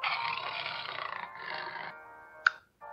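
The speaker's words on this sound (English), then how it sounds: "J is for jaguar." A cartoon-style jaguar roar for a children's animal alphabet rings out loud and sustained for about two seconds, then fades, followed by a sharp bright ping and a short tonal sound.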